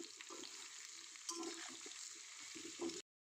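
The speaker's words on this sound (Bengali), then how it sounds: "আমার আলু পেঁপেটা ভাজা হয়ে গেছে, বেশ লাল লাল করেই ভেজে নিয়েছি" Potato and papaya pieces fry in a pan with a steady soft sizzle, broken by a few brief stirring scrapes near the end before it cuts to silence.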